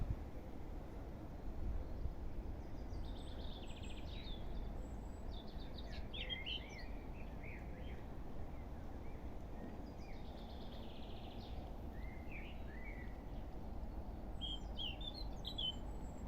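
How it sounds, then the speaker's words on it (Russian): Many birds chirp and trill outdoors in a steady chorus, with scattered high calls coming and going over a soft constant background hush, no talking. "так багато пташок тут"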